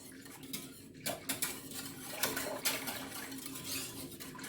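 A utensil stirs vegan coquito seasoned with grated nutmeg, light repeated clinks and taps against the container, close but soft, with no talking.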